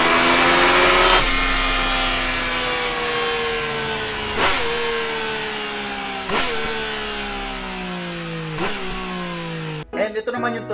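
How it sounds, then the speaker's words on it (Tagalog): Yamaha MT-09 motorcycle fitted with an Akrapovic full titanium exhaust, held at a loud, steady high rev nearby with a few sharp throttle blips that drop back, then cutting off abruptly near the end. "ito naman yung tunog nung na-install na yung Akrapovic full titanium exhaust."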